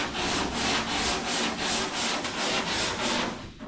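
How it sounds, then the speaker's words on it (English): Steady rhythmic rubbing strokes of sanding and scraping the factory seal coat off a truck body, about nine even back-and-forth passes, loud and close, with no talking. "You about got all your scraping done?"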